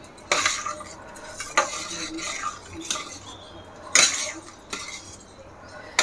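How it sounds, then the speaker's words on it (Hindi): Dissolved maida batter being stirred in a pan for coconut barfi, a spoon scraping and clinking against the metal in uneven strokes over a faint sizzle, close by. "अब इसको चलाते रहना ताकि इसमें लम्स ना हो।"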